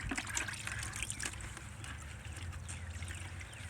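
A vinyl leather cleaning mitt rinsed under running water, a close, steady splashing trickle that rustles and gurgles throughout.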